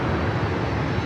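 Jet engine roar of an airliner, likely an Airbus A220-300, taking off from runway 24 left at Los Angeles International Airport, a steady broadband rumble with no talk.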